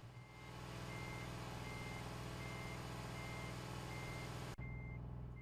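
A truck in Euro Truck Simulator 2 reverses, its backup alarm sounding a steady series of evenly spaced beeps over a loud constant engine drone, with a brief dip near the end.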